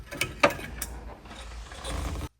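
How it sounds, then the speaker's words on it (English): Phillips screwdriver working on dashboard trim in a 1966 Lincoln Continental: close, sharp clicks and a ratcheting tick, then a soft rustle of loosened trim. It ends abruptly, with no talking. "we can pull out this top interior piece above the driver's side of the dashboard just using a Phillips headed screwdriver"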